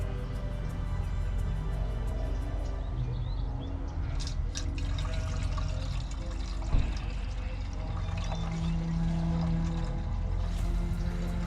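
Water poured into the cooling system of a supercharged engine, a steady trickling and filling under a constant low hum, with a brief knock midway.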